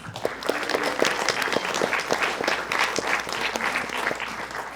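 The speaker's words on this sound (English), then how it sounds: "Can we have a round of applause for today's sponsors?" A room full of people claps for the sponsors at an event with artist Geoff McFetridge, sustained and fairly close, with a few louder individual claps standing out from the crowd.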